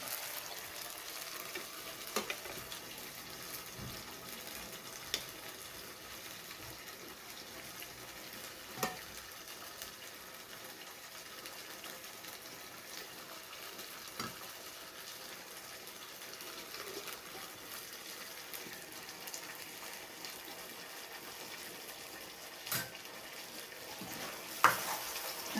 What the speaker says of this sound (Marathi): परतत आहे तेलामध्ये, बघू शकता तुम्ही.